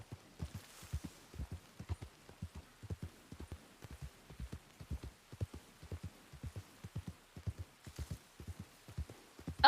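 Two horses in the video game Red Dead Redemption, their hooves clip-clopping in a steady, soft walking rhythm of muffled thuds that continues throughout.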